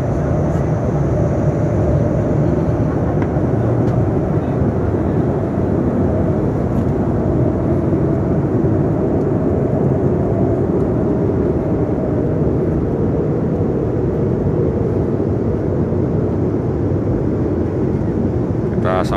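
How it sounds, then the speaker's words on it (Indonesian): Steady, loud cabin drone inside a Lion Air Airbus A330-300 airliner in cruise flight, a constant broadband roar that continues unbroken throughout. "Kita memakai pesawat"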